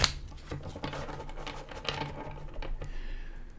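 Tarot cards being shuffled by hand, soft quick riffling and tapping in an irregular patter, close and fairly quiet, with no talking.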